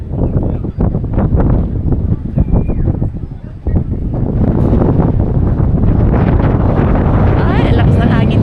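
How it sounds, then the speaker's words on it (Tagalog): Strong wind roars and buffets the microphone at a hilltop shrine in Batangas City, Philippines, loud and continuous, with voices faintly mixed in beneath the rushing noise. "lakas ng hangin dito. Ang sarap."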